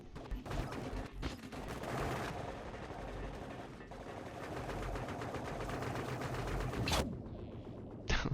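Fairly quiet, continuous rapid gunfire in the shooter game Dust 514, with a few sharper bursts standing out near the end and no speech.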